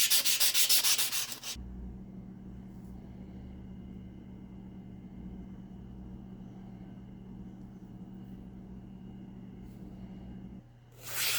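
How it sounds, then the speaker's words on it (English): A belt or bench grinder works on forged whittling knife blades, with a short loud gritty burst of grinding at the start, then a steady low machine hum, and another brief rise at the very end. "grind them and clean them up and get them ready for etching"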